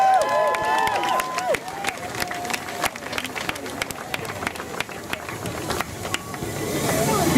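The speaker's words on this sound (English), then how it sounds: "I'd like you to give a big round of applause" A crowd at an outdoor protest demonstration breaks into a round of applause, scattered clapping and cheering at moderate volume with noisy open-air ambience, the sound swelling again toward the end.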